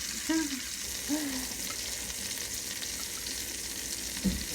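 Onions sizzle in a hot pan around a chicken burger, a steady bright frying hiss with a few faint brief voice sounds over it.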